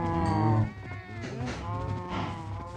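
Cattle in a Minecraft-style game lowing in a short burst of moos, loud at first then trailing off into softer layered calls, with no talk over them.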